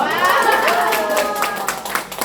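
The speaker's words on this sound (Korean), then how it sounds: "내 자신에 대한 박수를 환호와 박수를 한번 쳐주시기 바랍니다" A seated audience of seniors at a dementia-prevention class claps and cheers on cue. Dense, steady applause holds throughout at moderate loudness, with a few voices calling out over it.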